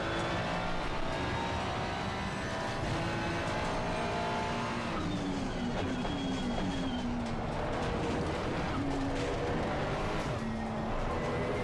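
A car driving laps in a racing video game, its engine droning steadily with pitch rising and falling through gear shifts and corners, continuous and fairly quiet, with no talking.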